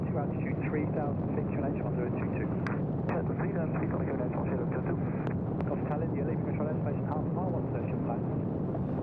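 A light aircraft drones steadily in flight, its engine a constant loud rumble heard from inside the cockpit, with someone talking over it throughout.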